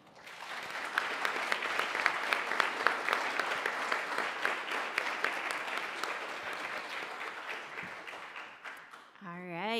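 Sustained applause from an audience at a community event in Buffalo, New York, for a group of presenters. Dense clapping swells, holds steady for several seconds, then fades as a voice begins.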